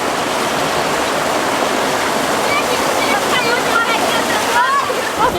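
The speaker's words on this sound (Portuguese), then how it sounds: "Vem água lá na barragem." Water rushing over a dam on a creek, a loud continuous broadband roar close by that fills the whole clip, with faint chirpy sounds near the end.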